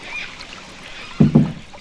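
A canoe paddle dips into a river, giving two quick, close splashes in succession after a soft stretch of faint wind and water ambience.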